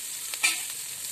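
Onions sauté in oil in a pan, giving a soft, steady sizzle with a faint stir near the middle, quiet and brief.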